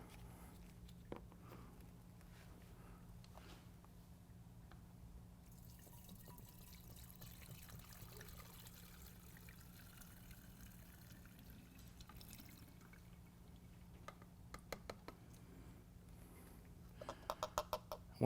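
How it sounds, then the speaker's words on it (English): Throttle body cleaner poured through a funnel into a filler opening on a vehicle, a soft steady trickle with a few faint drips toward the end, close and quiet under a constant low hum. "we can remove the filler cap and pour our product in"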